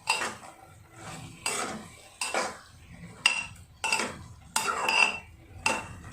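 Spoon or spatula stirring half-fried bitter gourd in a pan over low gas flame, a series of scraping, clinking strokes against the metal, close and fairly loud, in repeated bursts with short pauses between.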